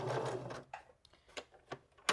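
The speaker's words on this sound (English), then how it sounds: "I'm going to sew this lace just in this groove right here" Sewing machine stitching lace onto fabric, a close whirring run that stops, followed by several short isolated mechanical clicks and thumps.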